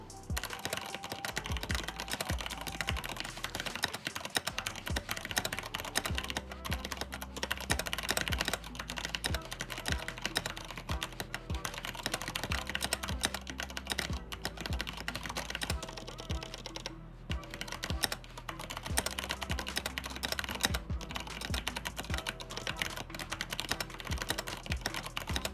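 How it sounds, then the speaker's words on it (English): Typing on an Everest Max mechanical keyboard, a dense, steady stream of keystrokes running unbroken for the whole stretch with no voices over it. "Now let me show you the typing demo using the Everest Max keyboard."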